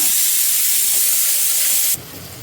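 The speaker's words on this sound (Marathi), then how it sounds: "चिमणी चालूच राहिली ताईने तुम्हाला ऐकायला आले की काय माहिती" A kitchen chimney exhaust fan runs with a loud, steady, close rushing hiss that cuts off abruptly near the end, leaving a faint low rumble.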